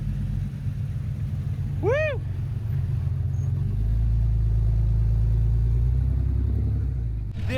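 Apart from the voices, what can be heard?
Jeep driving off-road, engine rumbling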